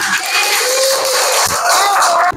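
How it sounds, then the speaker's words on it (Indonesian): A classroom of students applauds everyone, a loud, dense wash of clapping mixed with voices calling out, sustained throughout without a break. "Tepuk tangan untuk semuanya"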